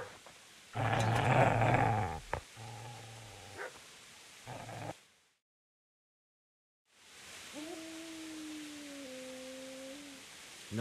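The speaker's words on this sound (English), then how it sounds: "Get away, you mutt!" A dog in the game Kingdom Come: Deliverance growls and barks in a few loud bursts, then goes quiet for a gap before a lower, drawn-out growl returns near and clear.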